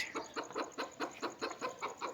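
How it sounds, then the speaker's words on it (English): Chickens on a farm cluck in a steady run of about nine short, evenly paced calls, close and fairly loud, with no talking over them. "Very beautiful chicken."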